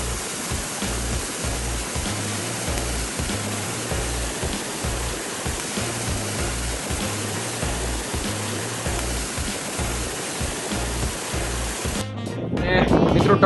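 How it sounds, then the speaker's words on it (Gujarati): A constant, loud roar of rushing stream water near the Takku waterfall by Rajpipala in Narmada carries on without a break. A brief burst of louder disturbance comes at the very end. "ખડખડ વહેતા પ્રવાહનો એકદમ સરસ મજાનો અવાજ કાને પડે છે."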